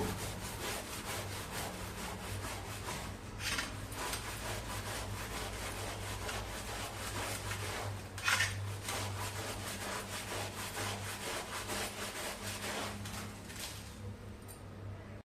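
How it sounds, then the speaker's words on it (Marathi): A new stone mortar is scrubbed with detergent powder and a scrubber, giving a faint, continuous rough rubbing with a few stronger strokes, close and alone without talk. "सगळ्या बाजूने चांगला चोळून घ्यायचा चांगला बाहेरून पण असा घासायचा"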